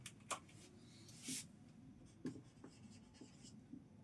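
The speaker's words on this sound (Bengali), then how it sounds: "এবার আমি লিখছি কোশ্চেনটা" A question being written on a board makes soft, close scratches and taps that arrive in short irregular strokes with brief pauses, faint and with no talking.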